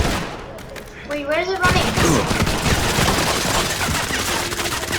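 Gunfire in the mobile shooter Modern Combat 5 during a chocolate event, a dense burst of rapid shots that starts suddenly and keeps rattling loudly, with someone speaking over the start.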